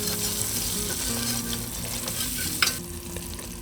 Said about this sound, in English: Next we add a 1/3 cup of flour. Whisk it in and cook it for a couple of minutes.